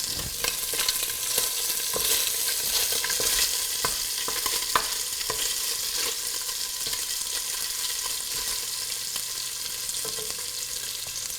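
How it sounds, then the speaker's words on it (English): Green onion and ginger fry in a pan for a rockfish green curry soup, giving a steady close sizzle with scattered crackles and occasional stirring clicks throughout, no voices. "I'm gonna chuck the green onion and ginger in there."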